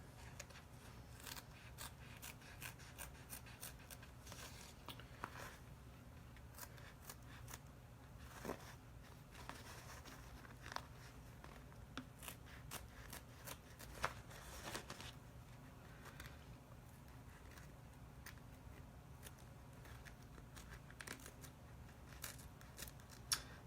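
Scissors snip steadily through glitter vinyl applique fabric on a T-shirt, a long run of close, crisp cutting clicks repeating in an uneven rhythm against a quiet room hum, with no talking.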